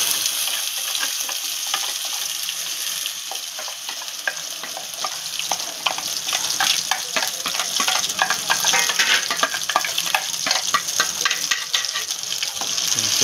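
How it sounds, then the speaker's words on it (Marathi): Ground masala of sankeshwari chilli, onion, tomato and coconut roasting in hot oil, a loud close sizzle with steady stirring and scraping of the pan throughout, no voices. "हा मसाला पहिला ह्याच्यात घेऊया भाजून तेलामध्ये"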